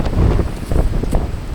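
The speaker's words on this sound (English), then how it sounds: "the wind is just brutal up here" Strong gusty wind buffeting the microphone on a clifftop along the Appalachian Trail at Raven Rocks, West Virginia, a loud continuous low roar that swells in gusts.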